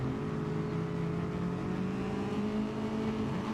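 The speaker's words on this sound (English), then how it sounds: "Revs are up then as they get ready for this lights out." Race cars in a racing video game rev on the starting grid at Bathurst before lights out. A dense, steady, loud engine drone of several cars holds throughout with no gaps.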